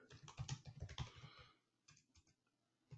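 Fingers type quickly on a computer keyboard with a close run of rapid clicking keystrokes. After the burst there is a short pause, then a few scattered taps.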